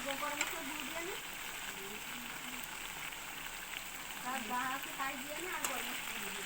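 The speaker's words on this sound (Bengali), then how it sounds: "এটাকে ভালো করে কষবো। দেখুন পরিমাণে তেল বেরিয়ে এসেছে কষার থেকে।" Chicken kosha stir-fries in plenty of released oil, giving a steady, close sizzle throughout while a voice talks over it.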